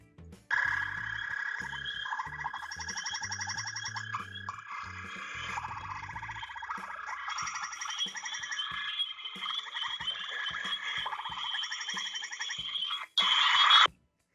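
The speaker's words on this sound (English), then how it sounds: "the frog chorus got louder and louder." A dense chorus of frogs croaks and trills continuously at night, many calls overlapping in a steady, pulsing wall of sound with no talking.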